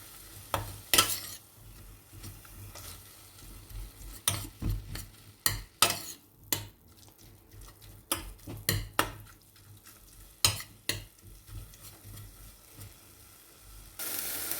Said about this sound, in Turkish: Kıymamı tencereye aldım. Suyunu çekene kadar güzelce kavuracağım.